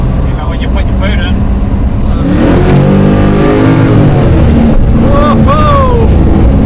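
A 1966 Pontiac GTO ProStreet muscle car with a 535ci big block accelerating hard, a loud close engine roar rising in pitch as it revs, heard from inside with people talking over it.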